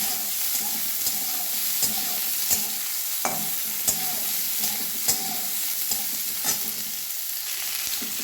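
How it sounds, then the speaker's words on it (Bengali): Onion, carrot and tomato sizzle steadily in a wok while a spatula scrapes and taps against the metal at a regular rhythm, close and continuous. "এবারে গাজর আর টমেটো দিয়ে দিলাম, সবগুলো একসঙ্গে ভেজে নেব।"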